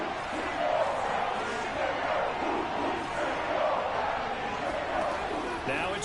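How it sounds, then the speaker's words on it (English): A stadium crowd in the Madden 22 football video game roars steadily and loudly throughout, building toward a big third down, with commentary voices talking over it. "The crowd getting into it as we come up on a big third down."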